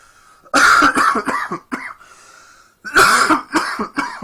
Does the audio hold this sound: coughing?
yes